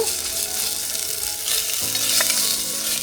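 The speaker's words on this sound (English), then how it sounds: "let's get that chicken starting to sizzle." Loud, steady sizzling of chicken frying in a hot pan, with a brief scrape of stirring partway through; no voices.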